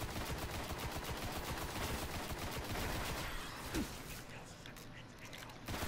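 Gunfire in the Destiny video game, dense rapid bursts of automatic shots rattling on almost nonstop, loud and close, tapering off near the end with voices talking over it.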